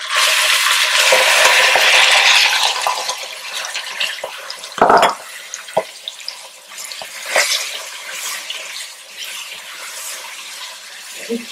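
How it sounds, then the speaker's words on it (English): Ground meat hits hot oil in a pan with a loud hiss and sizzle that gradually settles into quieter crackling, broken by a few scraping clanks of a utensil. "now I am going to add the ground meat in the oil"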